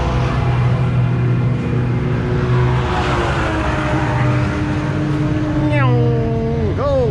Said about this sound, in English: Got some cool cars coming down.